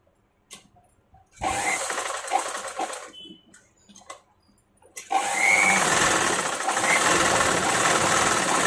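A sewing machine stitches along a blouse neckline in fast, rattling bursts, stopping briefly and starting again, then running loud and steady for the last few seconds; no one speaks.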